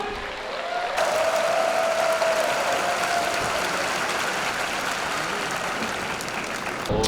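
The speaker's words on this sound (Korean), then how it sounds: "큰 박수 부탁드리겠습니다" Sustained applause from a crowd at a mixed martial arts event after a fight, a dense steady clatter of clapping that holds evenly for several seconds before cutting off.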